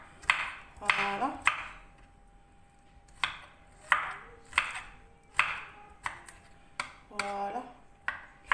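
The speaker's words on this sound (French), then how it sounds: "je vais émincer mon ail rapidement" Garlic minced quickly with a knife on a board: close, crisp chopping strikes in irregular bursts and single taps, fairly quiet, with no talk.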